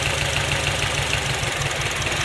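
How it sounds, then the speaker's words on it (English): A misfiring Acura engine idles steadily while its ignition coils are unplugged one at a time, giving a close, even mechanical idle with a faint knocking pulse and no voices. "Listen for the sound of the engine to go down"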